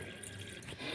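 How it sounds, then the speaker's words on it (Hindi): Water pouring into the tub of a semi-automatic washing machine, a steady close rushing and splashing fill with no break. "अब हम मशीन में दोबारा पानी भरेंगे"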